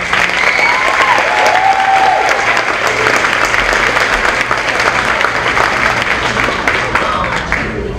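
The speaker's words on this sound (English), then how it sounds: "Let's give those students a round of applause." An elementary school audience at a fifth-grade promotion ceremony gives students a sustained round of applause, a loud, dense wall of clapping that holds steady throughout.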